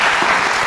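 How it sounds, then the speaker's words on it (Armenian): Audience applause at a quiz event, a brief, loud burst of dense clapping filling the whole moment. "եկեք ծափարենք"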